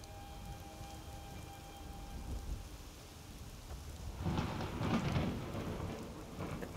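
Heavy rain pours steadily through a thunderstorm, with a rumble of thunder building and a louder burst of downpour and crackle in the latter half; no voices.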